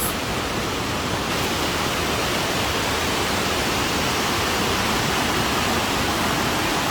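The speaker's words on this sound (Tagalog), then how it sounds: "Sobrang daming waterfalls." Powerful waterfalls roar in a steady, dense wash of rushing water over clear blue-green water, loud and unbroken throughout with no voices.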